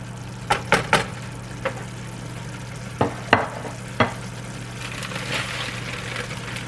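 Cabbage mix frying in a pan as it is stirred in, a low steady sizzle under several sharp utensil clacks and scrapes against the pan, with a constant low hum in the background.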